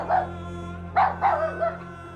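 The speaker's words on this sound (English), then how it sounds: "followed by a few sharp yaps." A small dog growls, then gives a few sharp yaps: one short call near the start, then a quick cluster of three close, fairly loud yaps over a steady low hum.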